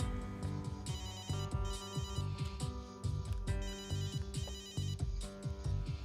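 A telephone ringtone plays loudly and steadily, a repeating electronic melody of bright tones with no voices over it.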